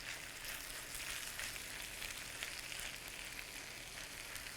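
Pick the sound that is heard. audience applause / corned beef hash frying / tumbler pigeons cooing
corned beef hash frying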